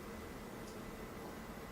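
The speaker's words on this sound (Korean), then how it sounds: "에어컨 소리가 바로 들리죠." An indoor air conditioner runs with a faint, even hiss of airflow and a low hum, steady and unbroken throughout, with no other sounds over it.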